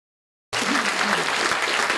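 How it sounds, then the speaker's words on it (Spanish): A church congregation bursts into loud, sustained applause that begins abruptly and continues steadily to the end, a dense wash of many hands clapping together. "Vamos a dar un aplauso al Señor."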